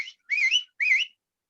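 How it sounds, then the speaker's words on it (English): Someone whistles three short rising-and-falling notes, clear and close, with brief pauses between them and nothing else around. "And dad is whistling."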